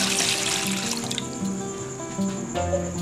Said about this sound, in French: Je rajoute de l'eau.